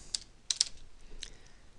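A few keystrokes on a computer keyboard, a single tap followed by a quick pair and then one more, light and close, with no one talking.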